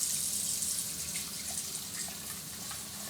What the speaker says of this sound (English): We're gonna fill it up with water, just enough to drown it